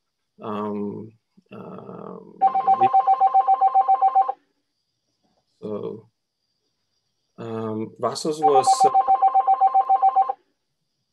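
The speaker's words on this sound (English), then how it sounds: "I think your phone is ringing" A telephone rings in bursts of rapid electronic trilling, two clear rings heard close and loud, interrupted by someone speaking at an awards ceremony.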